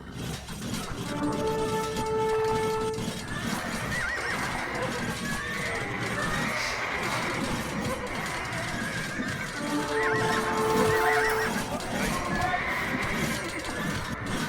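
Horses in an Age of Empires II battle neigh twice, well apart, over steady clip-clopping hooves and a dense background of clashing combat noise.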